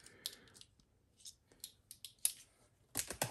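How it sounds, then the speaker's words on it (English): A small handheld cutting tool slices open the cardboard box of a Samsung UJ59 32-inch 4K computer monitor, giving scattered scratchy cuts and rustles with pauses and a louder burst of scraping at the end. No one speaks. "let me go ahead and cut this open with my little handy dandy tool here"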